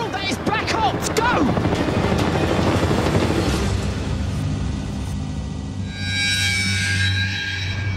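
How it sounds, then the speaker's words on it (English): Black Hawk military helicopter flying, a loud throbbing rotor roar under a voice at first, then continuing as a steady low drone. "That is a military helicopter. In fact, it's a Black Hawk."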